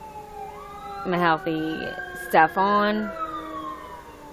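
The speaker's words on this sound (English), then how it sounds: "That was a siren." A siren wails steadily in the background, its tone sliding slowly, while a person talks over it in the foreground.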